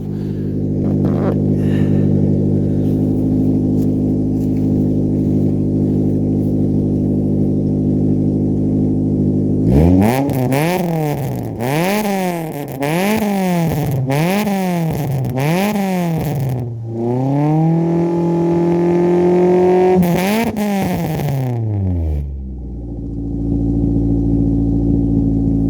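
The engine of a Suzuki Swift, a former show car, idles with a loud, steady drone, then is revved repeatedly in quick rising and falling surges, held high for a few seconds, and dropped back to idle.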